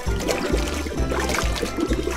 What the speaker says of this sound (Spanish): Añade un poco de agua, una pastilla efervescente y un poco de jabón.